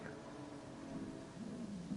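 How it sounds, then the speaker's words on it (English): Steady rain in the Gran Turismo 7 racing game, a soft continuous hiss with low rumbling underneath, evenly spread across the moment with no voices. "This rain's here to stay."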